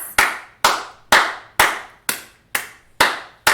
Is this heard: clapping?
yes